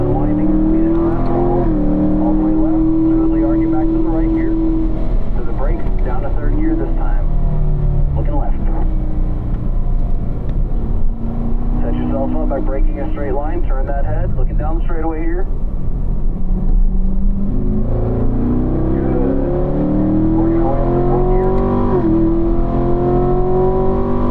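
A race car on a driving school track drones loudly and continuously, its engine note rising and falling through repeated acceleration and shifting, with a voice speaking over it now and then.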